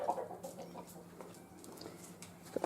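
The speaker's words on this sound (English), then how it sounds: "And there's just chickens everywhere." Chickens cluck nearby in a home garden, with scattered short clucks and a few sharper calls at the start and end over a quiet outdoor background.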